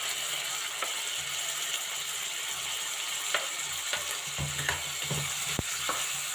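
Capsicum strips and onion sautéing in oil in a pan, a steady low sizzle with scattered clicks and scrapes of stirring throughout.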